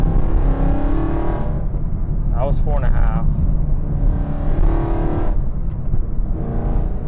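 A BMW E92 M3 with its S65 V8 revs hard while driving in M mode, a loud, steady engine roar rising in pitch, with someone speaking briefly over the din.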